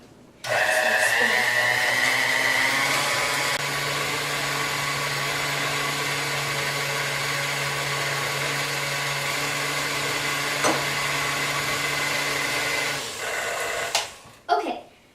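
An electric mixer churns chocolate chip cookie dough in a bowl, a steady motor whir holding near and loud for most of the clip before cutting off near the end.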